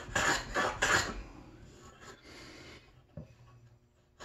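Hand tool rasping across the grain of timber while chamfering a 45-degree edge on a timber-framed table base part, a few close strokes up front fading to softer, sparse scrapes.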